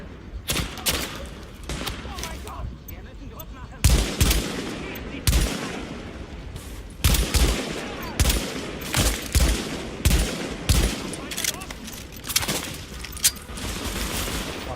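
Gunfire in the video game The Division, including sniper shots, with repeated loud sharp shots and bursts spread across the clip and voices talking between them.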